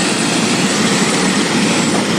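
A helicopter at Hilo Airport runs up for takeoff, a loud, steady broadband roar of engine and rotor close by with no letup.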